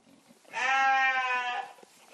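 A single sustained, loud bleat from a ewe, part of a flock of about sixty on a farm making cheese, yogurt and ice cream, rising sharply and holding for about a second before fading, with quiet farm background around it.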